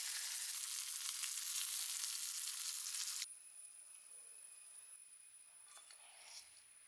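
Pieces of neymeen fish fry in oil in a small pan, giving a steady dense sizzle that runs loud for about three seconds, then drops to a quieter, thinner crackle.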